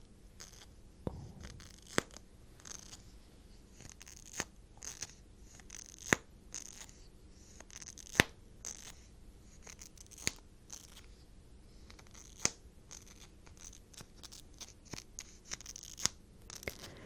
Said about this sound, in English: You have the scratchy sound, then you have that little pop at the end, kind of like lip gloss.